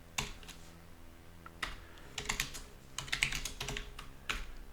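Keys clack on a computer keyboard in irregular clusters of taps, close and fairly crisp, with no voices.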